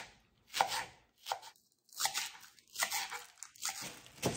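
Kitchen knife slicing three green onions diagonally on a cutting board, a few short crisp chops in uneven clusters, close and clear with no talking.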